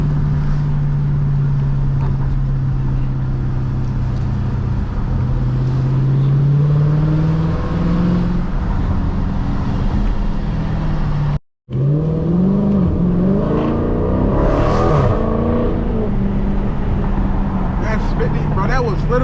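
A Dodge Charger SRT 392 with a Borla ATAK exhaust drones and revs at half throttle from inside the cabin, a steady loud roar rising in pitch, briefly cutting out and then climbing again, with talk over it.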